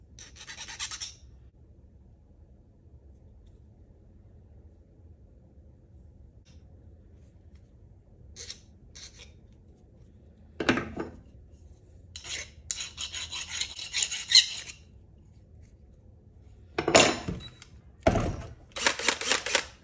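A hand file rasps in short, scratchy bursts as relief is cut into the end of a homemade jaw harp frame, with quiet gaps between the strokes.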